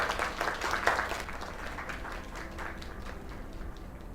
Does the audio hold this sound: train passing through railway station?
no